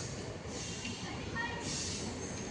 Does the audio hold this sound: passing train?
yes